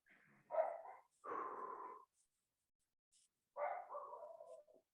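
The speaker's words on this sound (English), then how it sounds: "The dog is not howling at the moon." A dog lets out drawn-out, howl-like vocal cries during a home yoga workout: two close bursts in the first two seconds, a pause, then a wavering cry near the end, all fairly close with no talking.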